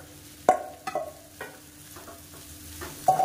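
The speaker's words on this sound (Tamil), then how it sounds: "நல்லா பரட்டி விட்டுக்கலாம்" Crumbled idiyappam is tossed in oil with golden fried onions, heard as a low sizzle with a few distinct clanks and scrapes of a spoon against the pan, fairly close and without talking.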